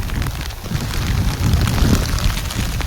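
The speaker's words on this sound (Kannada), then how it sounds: "ಮಳೆ ಜೋರಾಗಿದೆ" Heavy rain pouring down steadily, a dense, loud wash of noise with no talking.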